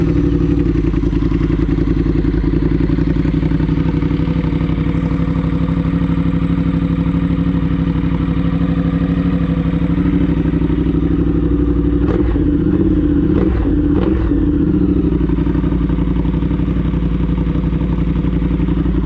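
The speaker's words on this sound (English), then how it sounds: "after that, the bike should fire right up" A Triumph Twin motorcycle engine runs steadily and loud throughout, a constant mid-pitched idle with a brief burst of clatter and revving near the middle, no talking.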